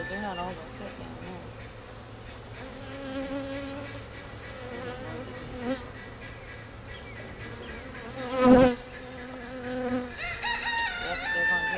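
A swarm of honey bees buzzes steadily around an open hive as frames are handled and a super is readied, a continuous droning hum running throughout with a brief louder knock near the end and a rooster faintly crowing far off.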